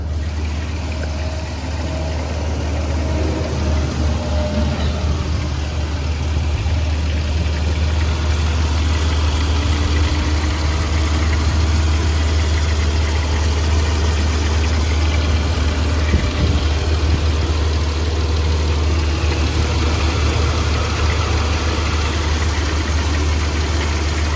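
A 2009 Dodge Grand Caravan SE minivan engine idles close by with the hood open, a constant low rumble with a faint mechanical hum, running unchanged throughout with no voices.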